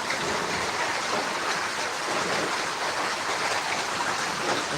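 Steady rain falls without pause around a poultry farm in Dohar, a dense, even hiss of drops close by with no voices.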